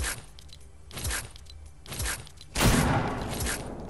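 Sharp gunshot bursts in the Fortnite video game, a few quick reports spaced about a second apart, followed by a louder, broader blast near the end, with no talk over them.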